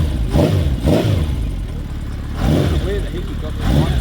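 A motorcycle engine revs up close in loud, repeated surges of throttle that rise and fall, with voices talking around the bike.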